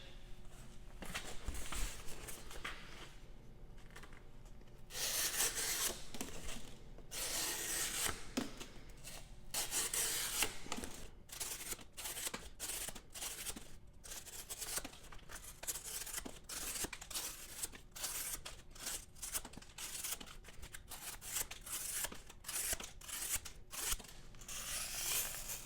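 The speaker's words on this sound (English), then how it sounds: "Do a little bit of cardboard cutting." A Tempest Knives Mach 51 prototype folding knife slicing through cardboard, giving repeated close scraping and tearing strokes in irregular bursts with short pauses between them, and no voices.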